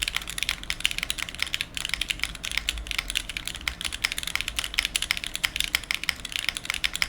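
Rapid typing on a handmade, built-from-scratch keyboard, with dense clacky keystrokes in a steady flurry and spacebar presses mixed in, close and clear with no talking.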